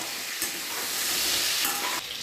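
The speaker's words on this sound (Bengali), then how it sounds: "এবার পটলগুলোকে ভালো করে লাল লাল করে ভেজে নেব।" Pieces of pointed gourd (potol) fry in hot oil until reddish, with a continuous loud sizzle and brief stirring scrapes near the pan.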